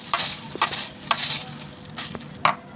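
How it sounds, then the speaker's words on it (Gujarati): Jhalmuri, the Kolkata street snack, being mixed by hand: puffed rice tossed with mustard oil, giving repeated dry rustling scrapes and taps in an irregular rhythm, fairly close and moderately loud, with no talk. "બધું જ બરાબર મિક્સ કરી દેવાનું છે."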